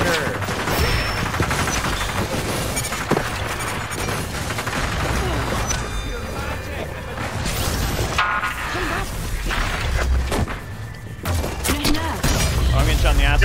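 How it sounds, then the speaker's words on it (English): Gunfire in the battle royale shooter Hyper Scape, rapid bursts of weapon shots and impacts crowding the whole stretch, loud and busy, mixed with game effects and excited players talking over the action. "Oh, I'm getting shot in the ass."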